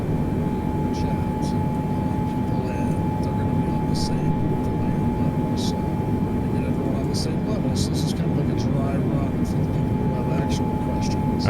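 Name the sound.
airplane engine noise in the cabin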